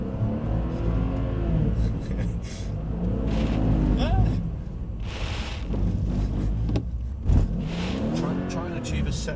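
A car engine on a track skid pan, revved unevenly on and off, rumbling loud and close with surging throttle and a voice talking over it.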